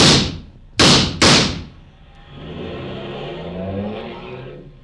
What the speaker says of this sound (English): He got away, didn't he, Mr. Clover? In a car.